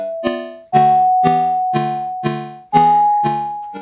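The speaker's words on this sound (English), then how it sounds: "It is basically a random chord generator with a harmonic grammar that I simply hard-coded" Square-wave chords from a Python-programmed random chord generator with hard-coded harmonic rules, struck in a steady series of about seven buzzy, bright chords over a sustained high tone, no voices.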